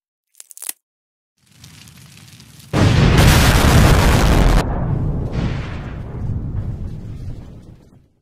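A sharp pop, then a rumbling buildup erupts into a loud, roaring cannon blast that rolls and fades into a long, heavy rumble.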